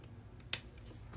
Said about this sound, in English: I'm gonna pull it down and cut my tails the same length.